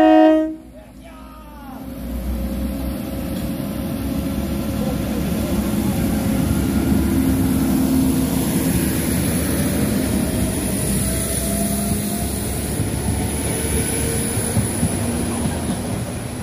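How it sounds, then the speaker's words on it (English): Train 411 pulling into Greenisland station bound for Great Victoria Street, a steady low rumble building after a brief opening, sustained and fairly near with a high whine above, and a voice heard briefly at the start. "Here is 411 for Great Victoria Street."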